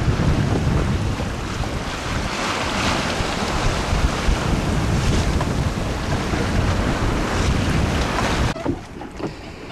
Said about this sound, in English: grey Atlantic day, cold, damp and very windy.